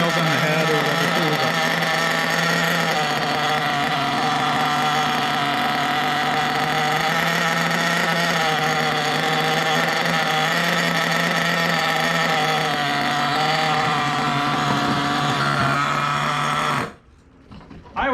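A small nitro engine idles steadily and close by, a buzzy, even drone with a fast regular pulse that runs for most of the stretch before abruptly cutting off near the end.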